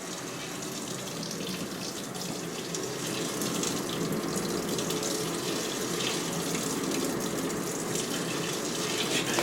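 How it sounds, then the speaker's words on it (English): A 2006 GE Profile washing machine with a wash plate fills with water, a steady, even gush of water pouring into the tub without a break. "So you can see it pretty much fills exactly how you would expect any wash play washer to fill."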